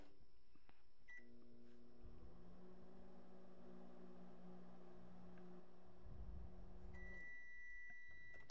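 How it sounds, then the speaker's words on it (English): A microwave oven runs steadily with a low hum and fan drone while melting ComposiMold molding compound in a small container, with a beep near the start and another at the end as it stops. "Melt the ComposiMold in the microwave."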